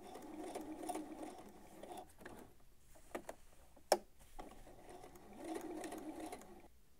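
A sewing machine understitching the lining of a steampunk-style coat runs in steady whirring bursts, stops briefly with a click midway, then resumes, close and fairly quiet.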